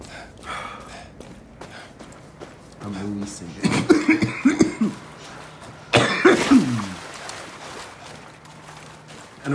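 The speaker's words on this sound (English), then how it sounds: "And apparently some coughs." Coughing in Far Cry 6 comes as a few rough, bursty coughs and throat-clearing fits, with gasping breaths and faint ambience between them. A person also talks during the coughing.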